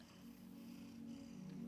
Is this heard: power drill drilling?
no